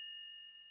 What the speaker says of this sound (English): Great, now the phone's ringing!